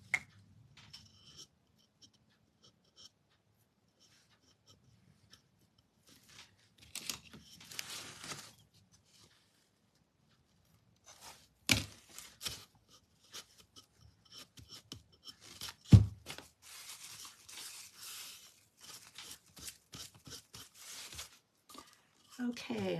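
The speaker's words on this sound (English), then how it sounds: "I got these little baby scissors off of Amazon." Small scissors snip paper for decoupage in short, close, crisp cuts that come in scattered bursts with quiet pauses between, alongside faint rustling of the paper.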